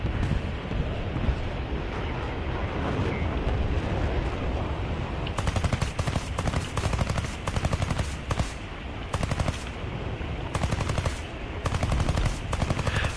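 Rapid machine-gun fire in War Thunder, loud sustained bursts that grow denser and harsher partway through, over a constant roar of wind and engine noise, with no voices.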